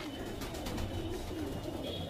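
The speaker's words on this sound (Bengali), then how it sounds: "এই দুটো মালবাই পায়রা দুটো ফ্রেশ, পুরো সাদার উপরে মালবাই পায়রা।" White Malbai pigeons in a loft give low, soft coos that repeat against a busy background, heard close but faint.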